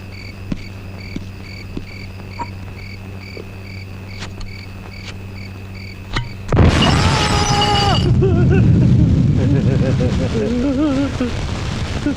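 A bomb hidden in a whisky bottle explodes with a sudden loud blast that cuts through a quiet night backdrop of chirping crickets, followed by a rumbling roar with cries and voices.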